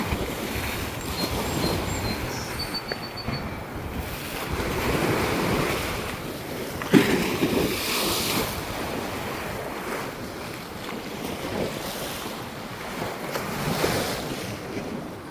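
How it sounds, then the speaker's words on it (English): Ocean waves crash and splash seawater along the shore beneath the Verrazano Bridge near Fort Wadsworth, a continuous loud surging wash with heavy wind buffeting the microphone throughout. "With all the splashing seawater. Holy shit, splashing heavy. As the waves crash."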